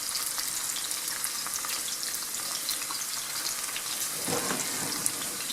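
Fat and oil sizzle steadily in a pan for pea soup with smoked meat, a close, constant crackling fry with a brief louder burst near the end.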